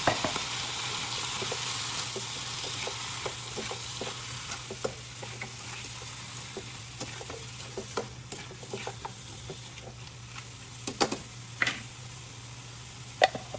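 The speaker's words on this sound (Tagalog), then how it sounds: "Now we will add our shrimp." Shrimp sizzle steadily in a hot pan while pancit canton is cooked, a constant frying hiss with scattered small pops and crackles and occasional utensil ticks, and no one speaks.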